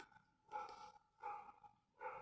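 A dog barks three times at a steady pace, each bark a short, somewhat distant burst with quiet gaps between.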